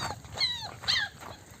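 Puppies of mixed breeds such as Labrador, Doberman and Rottweiler give short, high whimpering whines, two close, fairly clear cries over a low background.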